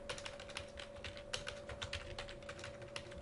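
Fast, uneven keystrokes clatter on a computer keyboard as code is typed, a quiet, close burst of clicks over a faint steady hum, with no talk.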